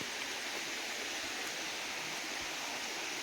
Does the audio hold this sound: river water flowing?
yes